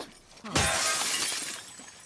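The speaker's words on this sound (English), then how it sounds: "We smashed the window of like a cabinet" A glass cabinet window is smashed in The Last of Us Part II, a single sharp close shattering crash followed by a second or so of tinkling, scattering shards.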